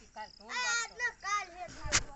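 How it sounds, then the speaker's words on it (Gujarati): A single firecracker bursts with a short, sharp pop near the end during Dev Diwali celebrations, heard faintly after a voice speaking over a quiet background. "જો આ ફટાકડા ફોડે મિત્રો"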